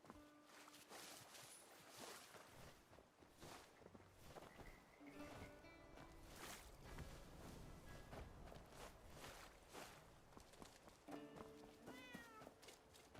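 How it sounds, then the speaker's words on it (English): A cat meows in the video game Where Winds Meet, a few short calls rising over busy in-game ambience, footsteps and scattered effects. "Oh, there's a cat."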